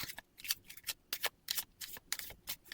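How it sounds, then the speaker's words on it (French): Tarot cards are shuffled and one is drawn, giving a run of crisp, riffling bursts in an uneven rhythm, close and fairly quiet, with no voice over them. "je vais prendre déjà une carte pour vous"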